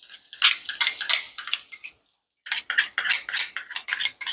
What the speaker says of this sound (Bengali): রসুন আর আদা আমি একসাথে করে চপারে চপ করে নিচ্ছি আর কি